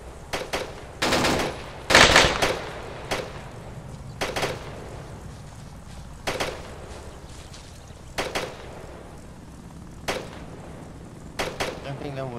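Bursts of automatic gunfire and single shots crack out in a military co-op shooter game, loud and irregular, with heavier volleys early and sparser shots later, while players talk over the action.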